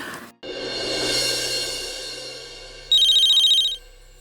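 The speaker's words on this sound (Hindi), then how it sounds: "लेकिन पहले मुझे अमन सर को फोन करना है।" A telephone rings as a call is placed: a steady tone fades in, then a sharp electronic ringing burst pulses rapidly for under a second, loud and close, with no talk.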